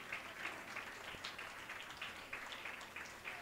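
Faint, steady clapping from a small gathering at a birthday celebration, applauding a father as he is garlanded; the patter runs evenly throughout at a low level, with no voices standing out.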